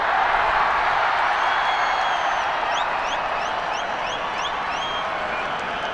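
Crowd noise at a cricket match between India and Sri Lanka, a broad, steady roar of cheering and applause that holds at an even level throughout, with faint whistles above it.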